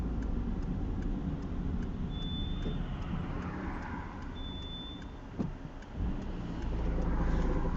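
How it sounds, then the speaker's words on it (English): Cars passing steadily on a road, heard from inside a moving car with the window slightly open: continuous broadband road and engine rumble, with a couple of louder whooshes as vehicles go by near the end. "I've got the window slightly open so I can hear cars"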